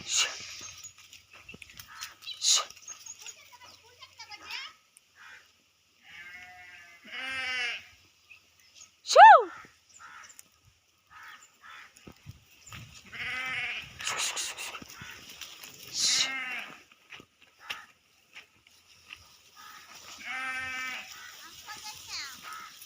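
Sheep bleat intermittently across a quiet field, several separate cries spaced apart by pauses, with some faint voices and a brief sharp call in between.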